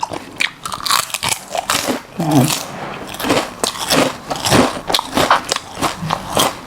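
Someone bites and chews crispy pork with a spicy enoki mushroom salad, giving loud, close crunches and crackly chewing in an irregular rhythm with a few small mouth sounds.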